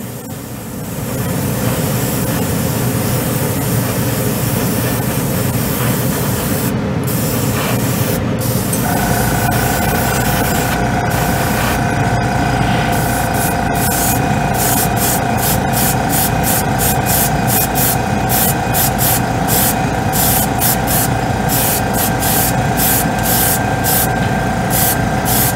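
An airbrush blowing air to dry urethane-based acrylic white scale-model paint, a loud, steady close hiss for the whole stretch, with a faint whine joining partway and occasional sputtering bursts, without talk.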